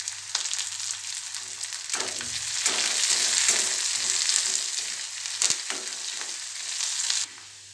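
Shredded cabbage sautéing in a pan with curry leaves, a loud steady sizzle with repeated spatula stirring and scraping, close up and without speech, ending abruptly.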